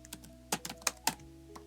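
Someone types a short chat reply on a computer keyboard, a quick run of about eight close, crisp key clicks in an uneven rhythm over faint background hum.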